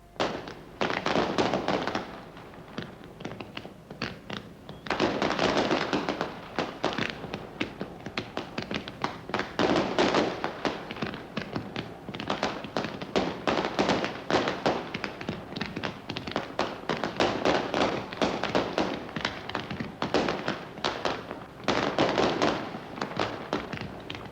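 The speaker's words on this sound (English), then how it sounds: "the Qataris produced a vastly expensive and vastly entertaining fireworks display for the Queen on Britannia" A lavish fireworks display in Qatar, staged for the Queen aboard the royal yacht Britannia in 1979, crackles continuously with rapid dense bangs and pops, loud and sustained throughout.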